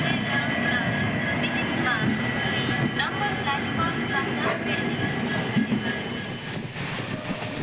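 A train rumbles steadily at New Jalpaiguri railway station on a morning stop, with a continuous loud low drone and faint metallic squeals over about seven seconds, and background voices mixed in.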